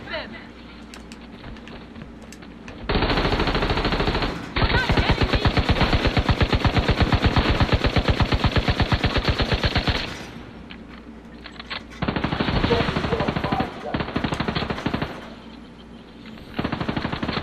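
Minigun gunfire in The Division 2 blasts as long, loud, rapid bursts of sustained automatic fire. The bursts are separated by short pauses, and a player talks at times between them.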